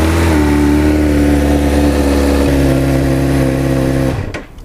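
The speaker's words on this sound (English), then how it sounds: "let me try to fire up the bike and confirm" A motorcycle engine runs loud and close, holding a steady idle with a brief rev in the middle, then cuts out abruptly near the end.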